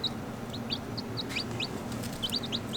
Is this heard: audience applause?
no